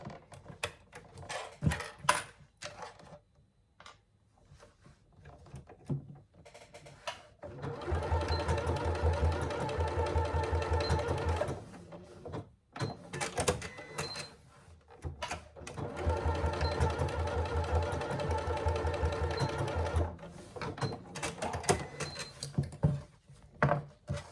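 A sewing machine stitches handle connectors onto a handbag in two long steady runs of rapid mechanical whirring, separated and framed by clicks and fabric handling.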